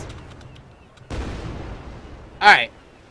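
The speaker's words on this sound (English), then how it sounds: "Fire the cannons!" Cannon fire from a boat in the ARK: Survival Evolved game: one loud, short boom after a burst of broadband rumble. It comes over low game ambience.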